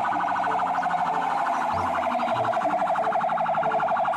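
A classic toy fire engine wails a loud, continuous warbling siren up close, rising and falling steadily without pause.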